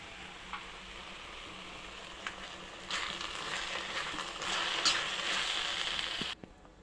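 Coriander rice stirred in a pan over low heat gives a steady soft sizzle with scraping spoon strokes that grow louder midway, then stop abruptly.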